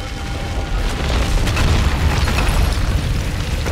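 Grenade blast in the video game Tomb Raider, a loud deep rumbling boom that rolls on with a heavy low roar throughout.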